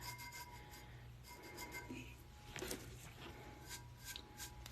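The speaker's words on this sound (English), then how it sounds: "This one rubs in really nice." Soft, close rubbing on a tumbler as a silver finish is worked into it, a faint continuous scuffing with irregular strokes and no talk.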